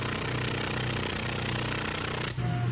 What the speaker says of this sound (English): while Gary hammers away the air chisel